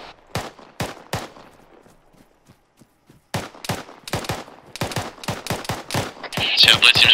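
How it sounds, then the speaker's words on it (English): Sharp rifle shots in the Arma 3 video game during a military simulation training firefight, a few spaced cracks at first, then after a lull a rapid string of close, loud shots in irregular bursts. "they're returning fire, right?"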